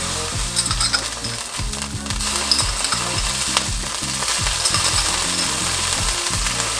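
Oil splatters and sizzles in a frying pan, a steady crackling hiss with scattered pops and occasional stirring or scraping knocks, close and continuous.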